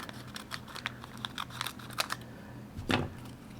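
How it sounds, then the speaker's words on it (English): Scissors snip through the end of a plastic Color Street Gel X nail package, a series of close crinkly cuts and rustles ending in one louder crunching snip. "So what I like to do is cut off the end"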